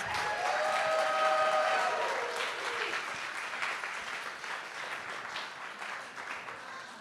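Audience applause at a winter solstice ceremony at CoSM, a dense burst of clapping loudest at the start and slowly tapering, with faint voices and a brief tonal sound early on.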